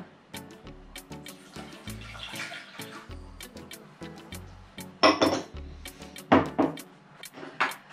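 Water, 200 ml of it, is poured into a small saucepan holding semolina, giving close splashing and gurgling broken by repeated light clinks and taps of metal, loudest in a few bursts toward the end.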